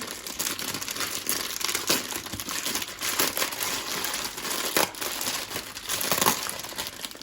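The plastic wrapper of a candy package from a discount market is torn open, giving continuous crinkling and rustling with a few louder crackles, close by and with no speech.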